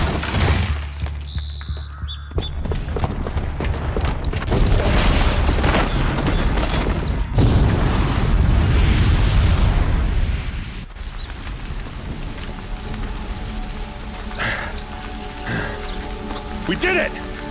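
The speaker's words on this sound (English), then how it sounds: "the booby trap on the bomb downstairs is gonna get set off" A booby-trapped bomb goes off in Horizon Zero Dawn, a loud sustained rumbling blast that swells and holds for several seconds before settling into a quieter ambient game scene with music, with talk mixed in.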